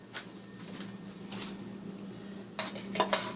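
Utensils clink and rattle in a kitchen drawer while a spoon is picked out for mixing banana nut bread batter. A few sharp metallic clinks come near the end, close by and with no talking.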